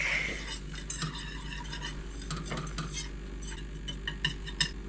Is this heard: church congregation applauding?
no